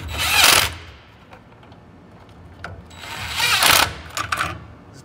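A power tool tightens bolts on electric drum brakes of a 2000 US Cargo utility trailer, two short whirring bursts near the mic with quiet handling noise between them.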